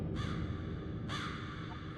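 Crows cawing in the Roblox horror game The Mimic, two harsh, distinct caws about a second apart over a low ambient rumble, moderately near.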